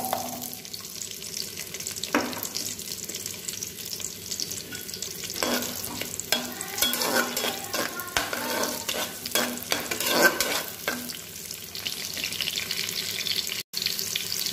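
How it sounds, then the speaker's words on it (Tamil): Onions sauté in oil in a pan for an oil brinjal gravy, with a continuous close sizzle broken by stirring scrapes and occasional clatter, with no voices. "வெங்காயம் நல்லா பொன்னிறம் வர வரைக்கும் வதக்கி எடுத்துக்கலாம்."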